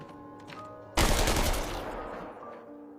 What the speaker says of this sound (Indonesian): frontman pun langsung menembak penjaga itu hingga tewas